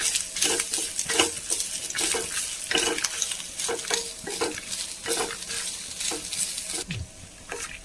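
Grated coconut, about one and a half tablespoons, frying in a pan as tempering for sambar, with steady close sizzling broken by repeated scraping stirs of a spoon against the metal.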